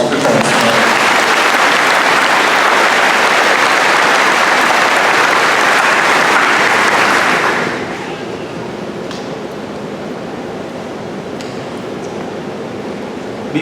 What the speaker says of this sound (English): how about one more round of applause for Lieutenant Smith?